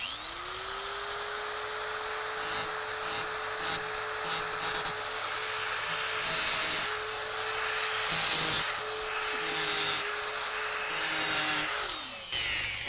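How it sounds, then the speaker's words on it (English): An angle grinder grinds a flat spot on metal during a hoop house build, a steady high whine running about twelve seconds with intermittent harsher scraping bursts as the disc bites, then winding down. "I'm using the grinder just to make a little flat spot so I can get a drill bit started"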